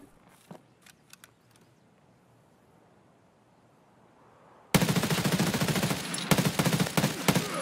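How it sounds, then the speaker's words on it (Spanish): Gunfire from another player during a video game raid: after a few faint distant shots, a sudden loud sustained burst of rapid automatic fire takes over and continues to the end. "Hay alguien disparando de aquel lado"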